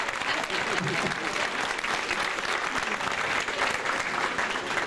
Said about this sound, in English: Queens of Zulu, let's give them a round of applause